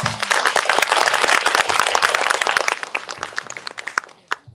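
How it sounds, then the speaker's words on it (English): Audience applause for the speakers at a health day event, a dense burst of clapping that thins out into scattered individual claps before fading near the end. "Please give them a round of applause."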